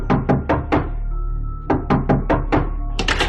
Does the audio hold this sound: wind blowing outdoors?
no